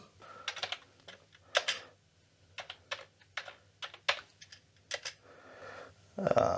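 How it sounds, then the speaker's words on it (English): Someone types on an old computer's keyboard in a quiet room, irregular bursts of clicky keystrokes with short pauses, close and fairly soft, ending with a louder clatter. "Keyboard seems to work just fine."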